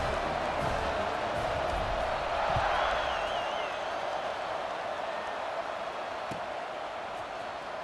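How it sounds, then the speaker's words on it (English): Stadium crowd noise in a college football video game, a steady broad roar that swells briefly in the middle and then settles, carrying on loud and continuous with a faint whistle-like tone above it and no clear talk. "this crowd is buzzing after that last score"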